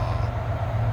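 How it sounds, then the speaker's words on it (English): A loud train rumbles steadily past close to a forest campsite at night, a dense low roar holding constant throughout with no pauses. "Sorry for the loud train."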